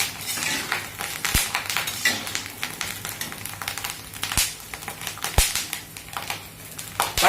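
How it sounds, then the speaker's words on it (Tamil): Cornflakes mixture deep-frying in hot oil, a dense steady crackle and sizzle with several sharp, loud pops spaced a few seconds apart, heard close up with no talking. "பட வெடிக்கவும் செய்யறது இது"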